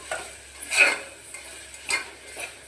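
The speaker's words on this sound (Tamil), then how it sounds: "உப்பு போட்டுட்டு நல்லா வணக்கி விட்டுக்கலாம்" Vegetables with salt are stirred in a pan for Mysore dal rice, a few distinct scraping strokes of a spoon over a faint sizzle, close and unaccompanied by talk.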